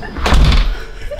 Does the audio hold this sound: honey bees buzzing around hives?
no